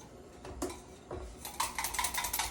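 Whisking in a bowl for a roasted vegetable dish: quiet, rapid metallic clinking of a whisk against the bowl, a few separate taps at first, then a quick steady rhythm.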